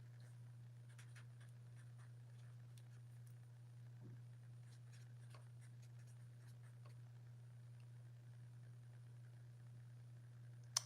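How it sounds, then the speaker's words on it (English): A note being written by hand, a pen scratching lightly across paper in short intermittent strokes, faint and close, over a steady low electrical hum, with no voices. "Let me write that down."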